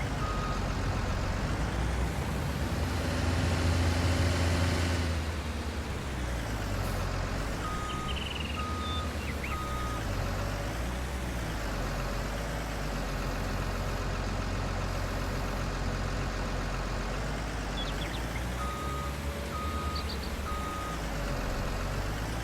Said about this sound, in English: I'm glad there's a bumper on the back of this wheel loader because I think I'm probably hitting that concrete every single time I'm backing up.